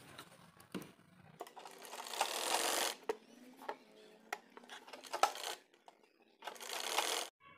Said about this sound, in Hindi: यहाँ सिलाई कर लेते हैं।